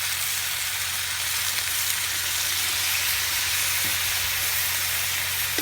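Steady broadband sizzling of adobo frying in a pan as soy sauce goes in, a continuous close hiss with no talking.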